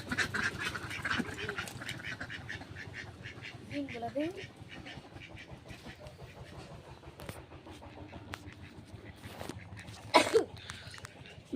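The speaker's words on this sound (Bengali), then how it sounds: "এবার আমি হাঁসগুলা ছেড়ে দিব চলো" Farmyard ducks are being let out and quack in scattered bursts near and far, with a low background hum and a sharper cluster of calls toward the end.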